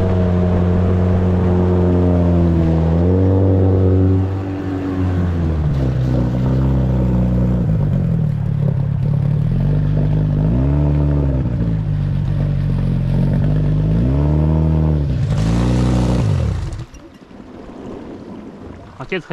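A water-jet boat motor on a river drones loud and close, its pitch rising and falling as the throttle changes, with wind buffeting the microphone before the engine cuts off near the end.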